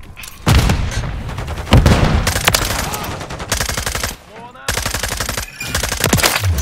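Rapid automatic gunfire and explosive bursts from Call of Duty Modern Warfare 3 multiplayer on the Rust map, loud and close, in repeated volleys with brief gaps and clipped radio-style voice callouts mixed in.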